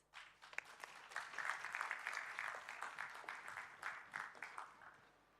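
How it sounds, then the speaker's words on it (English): Audience applause at a TEDx school event, steady clapping from a crowd welcoming a teenage student speaker, sustained for several seconds and fading slightly at the end. "Please welcome with a huge round of applause."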